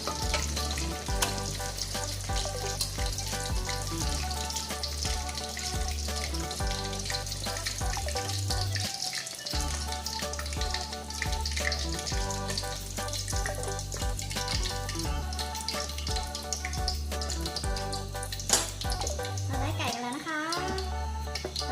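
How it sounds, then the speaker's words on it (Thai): Chicken pieces frying in hot oil until golden and crispy, a steady loud sizzle that runs throughout, with someone talking over it and a backing music track. "จะเปิดเร่งไฟนะคะ ทำให้ไก่มันกรอบขึ้นนะคะ"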